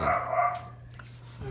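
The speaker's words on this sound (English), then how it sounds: "Sorry for the dog in the background, but I can't do anything about that. She's excited." A short, excited bark from a dog in the background opens the moment, followed by someone speaking briefly over a low indoor hum.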